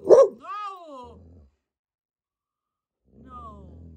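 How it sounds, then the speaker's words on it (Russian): A small dog barks at a rabbit in a backyard, one sharp bark followed by a rising whining yelp, then a quieter whimper after a pause. "а Стелла недовольная, гавкает"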